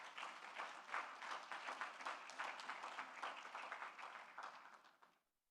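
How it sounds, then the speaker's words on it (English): A conference audience at a regional investments and capital markets event applauds, a sustained wash of many hands clapping at moderate distance before it cuts off abruptly. "I just want you to acknowledge them with a round of applause"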